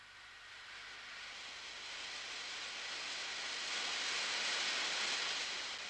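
A compressed air jet blows from a nozzle in a laboratory flow demonstration, a steady broadband hiss that gradually swells louder over several seconds, with no talking.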